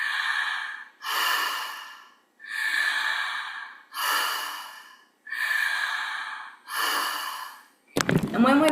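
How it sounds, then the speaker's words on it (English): Deep breaths drawn in through the mouth during a breathing exercise: six long, loud, evenly spaced airy breaths with short pauses between them, followed by a brief voice at the end. "You can put one hand on your belly, one hand on your chest, and take a deep breath in."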